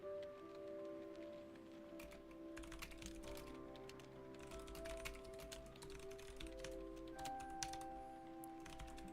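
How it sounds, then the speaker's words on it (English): Someone types steadily on a loud computer keyboard, and the quick, uneven clacks sound close. A faint background tone runs underneath, and no one speaks. "Plus, I have a loud keyboard."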